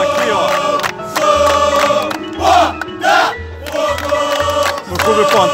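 Botafogo supporters at a pickup football tournament chant and shout together, loud and close, in rhythmic phrases with a repeating low thump underneath.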